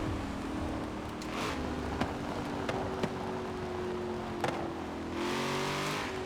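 Cadillac CTS-V with a drift build revving its engine in the racing game Forza Horizon 4, a steady loud engine drone with rising harmonics and a few sharp clicks, no talking.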